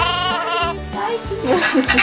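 Sheep and goats bleat on a countryside farm, with loud, wavering cries following one another continuously and close by.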